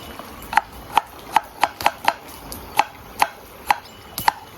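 Cucumber finely chopped with a knife on a board for a sour cream sauce, cooking outdoors: a dozen crisp, irregular taps close by, sharp and clear over faint background noise, with no talking.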